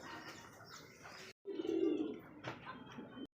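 Koka and high-flyer Giribaz pigeons at a pigeon sale coo faintly, one soft throaty coo standing out mid-clip against quiet background chirps.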